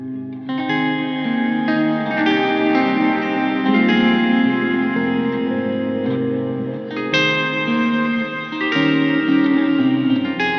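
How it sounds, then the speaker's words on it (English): A looped electric guitar phrase rings through a Strymon Cloudburst reverb pedal set to plain reverb with the ensemble off, sustained chords blooming into a wide, washy tail, loud and alone. "So that's just the regular reverb there. The ensemble's turned off."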